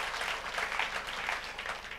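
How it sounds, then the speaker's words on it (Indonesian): A church congregation claps together during a worship service, giving a steady, moderately loud wash of applause that fills the whole moment. "Kita berikan dulu tepuk tangan buat Tuhan Yesus."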